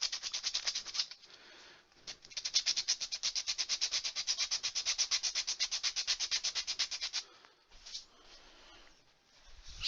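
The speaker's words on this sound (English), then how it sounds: "I just sand the little nubbity off the bottom." Sandpaper rubbing the bottom of a turned wooden bud vase, a steady rasping scrape with fast regular back-and-forth strokes, close and fairly loud, pausing briefly before trailing off.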